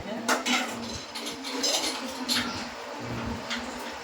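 Steel utensils being scrubbed and washed in a home, clattering and clinking in irregular bursts with faint background voices and activity.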